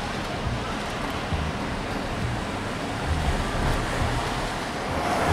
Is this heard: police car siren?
no